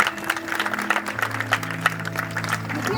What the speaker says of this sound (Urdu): میں چاہوں گا ہم ایک بار زوردار تالی بجائیں گے.